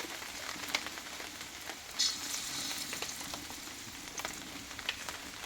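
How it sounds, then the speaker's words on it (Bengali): Mung dal fritters (bara) fry in hot oil, a soft continuous crackling sizzle with occasional sharper pops and light spoon sounds, fairly quiet and close. "এইবার এই চামচের মাধ্যমে আমি একটু একটু করে বড়াগুলো দিয়ে ভেজে নেব"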